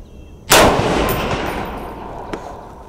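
A single Super SASS rifle shot fired at long-distance targets rings out loud and sharp, its report rolling away in a long decaying echo, with a faint distant impact clang following about two seconds later.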